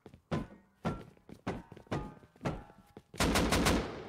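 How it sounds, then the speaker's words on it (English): Gunfire aimed at a wall during a raid in a video game: six sharp, evenly spaced shots ring out, then a louder, denser burst of rapid fire closes the sequence, with no talking. "I'm just shooting the wall"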